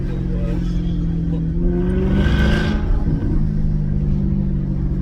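A Maserati GranTurismo S engine with exhaust valves removed revs hard with a deep, loud rumble that swells to a peak midway through, then settles back to a steady growl.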